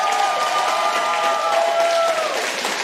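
Live studio audience applauding and cheering loudly, continuous dense clapping with whistles and shouts carrying through the whole stretch.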